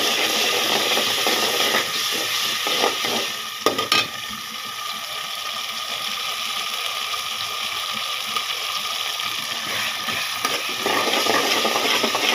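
Ginger garlic paste frying in a pan of already fried onions, a steady close sizzle that runs throughout with a brief stir-like clatter near the start.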